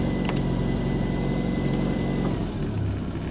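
A Triumph Spitfire sports car engine runs steadily while reversing, a continuous low rumble close by that dips slightly near the end, with no talk over it.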